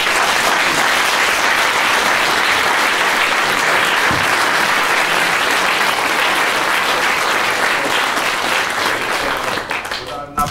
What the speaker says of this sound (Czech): myslím, že to chce potlesk